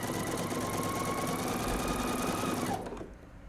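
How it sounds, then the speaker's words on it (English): A sewing machine runs steadily, stitching fold-over elastic onto a garment neckline, a close continuous mechanical whir that stops abruptly near the end. "You're just holding your fold over elastic and sewing."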